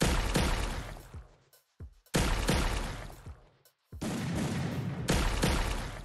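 A reload effect for the Evo M1014 Scorpio shotgun in Free Fire, heard as three loud, roaring, splashy bursts, each about one and a half seconds long, separated by short gaps with a faint click.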